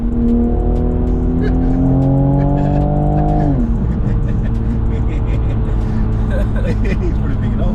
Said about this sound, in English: What we've got coming up next to us now is an RS3.